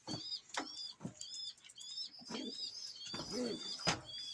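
Van pigeon chicks give repeated soft cheeping and cooing calls, with light rustling and a few sharp knocks between them, close by in a quiet loft.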